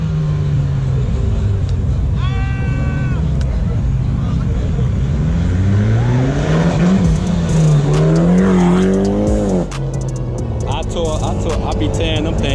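A Porsche GT3 RS revs and accelerates at a cars and coffee meet, its engine rising and falling through a loud, close run under crowd chatter and talk.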